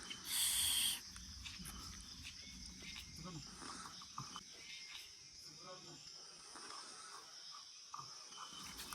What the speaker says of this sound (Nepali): चराको साउन्ड सुन्नु सक्नुहुन्छ तपाईँले यहाँ